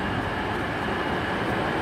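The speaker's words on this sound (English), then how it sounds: "Coming in here onto platform 4B where I'm standing now is a terminating East Midlands train service from Crewe" An East Midlands class 153 diesel unit from Crewe pulls into platform 4B at Derby station, a steady close rumbling roar of the train arriving, with no talking.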